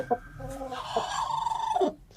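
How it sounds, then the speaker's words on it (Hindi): A broody Aseel hen clucks loudly and agitatedly up close, a run of harsh, rising squawks and clucks over about two seconds. "ये देखें शोर मचाती है, ये भी कुड़क हो गई है।"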